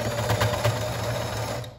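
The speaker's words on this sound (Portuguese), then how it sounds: "e começo a costurar" A sewing machine runs steadily on cotton tricoline and bleached fabric for a dish towel, a close continuous hum of stitching just after a backstitch.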